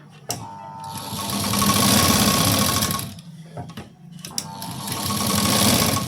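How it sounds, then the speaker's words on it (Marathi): Sewing machine stitching a sleeve seam, two loud steady runs of rapid mechanical whirring separated by a short pause with small clicks and handling noise. "आता पूर्ण अशी शिलाई देऊन घ्यायची"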